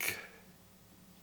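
A single sharp click from a presentation clicker at a conference forum welcome, brief and bright, fading into quiet room tone.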